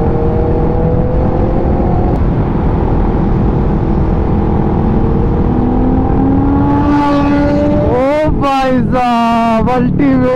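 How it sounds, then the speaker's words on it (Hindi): A motorcycle idles with a steady engine drone, then is revved hard near the end in several loud, rising bursts, close to the listener. "ਤੁਸੀਂ ਇਹਨੇ ਹੁਣੇ ਨਾ ਐਕਸਲੇਸ਼ਨ ਦਿੱਤੀ ਹੈ ਨਾ ਇਹ ਤਿੰਨ ਚਾਰ ਪਿੰਡਾਂ ਤੱਕ ਸੁਣੀ ਹੋਊਗੀ ਆਵਾਜ਼"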